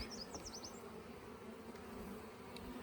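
A steady, dense buzz of many honeybees at a top bar hive fills the clip, close and continuous, with a few brief higher chirps near the start.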